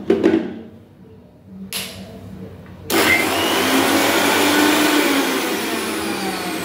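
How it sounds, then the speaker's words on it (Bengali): A mixer grinder blends coriander leaves into a paste. A few brief starts are followed by a loud, steady whirring motor that runs close by without stopping. "এইগুলোকে এবারে মিক্সিতে পেস্ট করে নেব"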